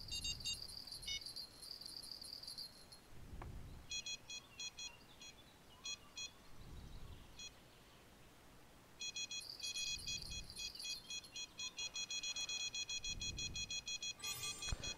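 Fishing rod bite alarms in Fishing Planet at Sander Baggersee Lake, rapid electronic beeping in bursts that stop and start, over quiet background with soft low thumps.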